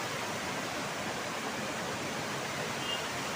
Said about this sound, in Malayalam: നല്ല അടിപൊളി വെള്ളച്ചാട്ടമാണ്.